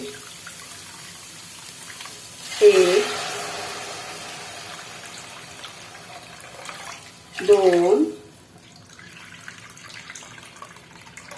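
Water pours in a steady, hissing stream throughout as three cups go into a pot of sweet corn soup, while a voice briefly counts aloud twice over it.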